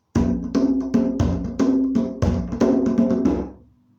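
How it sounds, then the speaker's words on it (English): Big African hand drum struck in a steady rhythm of resonant, booming hits with ringing overtones, fading out at the end. "And sometimes I like to play my big African drum."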